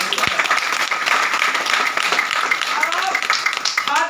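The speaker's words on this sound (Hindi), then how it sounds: "एक जोरदार ताली होना चाहिए" An audience at a seminar event in Ranchi claps loudly and continuously, with a dense crackle of many hands sustained throughout while a voice carries over it.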